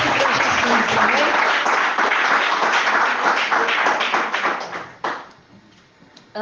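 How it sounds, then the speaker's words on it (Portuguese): Worship congregation clapping hands together, a dense loud wash of claps for about five seconds that then drops away to a quieter tail. "Vamos adorar com o Senhor, mas com palmas de verdade, irmão. Palmas com vontade"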